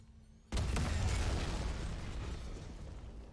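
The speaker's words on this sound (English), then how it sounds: "enjoy the explosion." Sudden loud explosion in the video game Dead Space (2023), a sharp burst after a quiet lead-in that settles into a long, rumbling, crackling decay with debris-like clatter.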